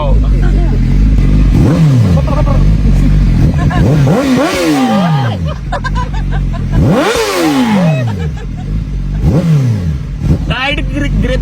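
A motorcycle engine revs up repeatedly in rising and falling surges as it rides, loud and close, with people's voices and crowd noise underneath.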